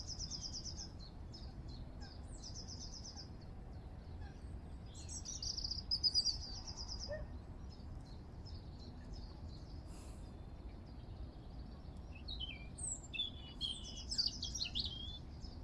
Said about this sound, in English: that bird singing is just incredible